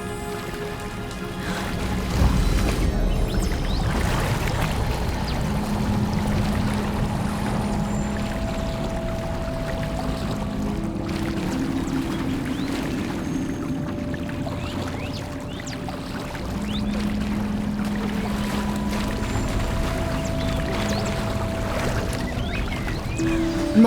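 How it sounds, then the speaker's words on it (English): Water bubbles and pours continuously in the video game Hogwarts Legacy. It is a loud, close, churning flow that keeps up throughout, with faint tonal game sounds in the background. "Look, where the water's bubbling."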